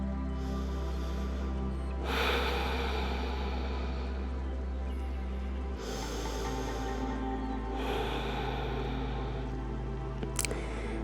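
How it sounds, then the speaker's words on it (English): Slow, deep breaths during a yoga practice at home, with long swelling inhales and exhales recurring every few seconds, close and steady over a constant low background hum, with no talking. "deep breaths."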